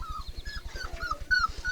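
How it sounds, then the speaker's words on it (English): American Bulldog pups and rat terriers in a yard make rapid, rhythmic yips and thin whimpering cries close by, with a louder burst near the end. "Rat terriers following me around and they're barking at her."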